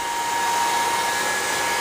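A hair dryer runs on its high setting, heating faded plastic: a steady, loud, close airy whoosh that holds an even level throughout, with no voices.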